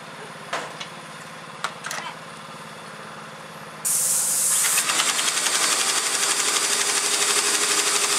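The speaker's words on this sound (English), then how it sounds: "Isaac James, turn off the machine. So is that how you paint?" An airless paint sprayer coats a house exterior, starting with a sudden loud hiss partway through and then spraying continuously; a few knocks and clicks come before it starts.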